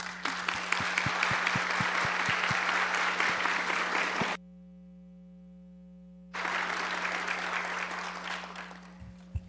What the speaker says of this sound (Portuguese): Eles recebem as nossas palmas.